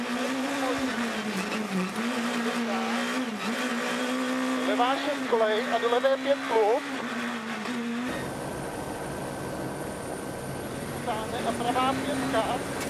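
A rally car blasts along a double-width Corsican tarmac stage in the 2013 European Rally Championship, its engine droning and surging through revs at a distance, with commentary talking over it throughout.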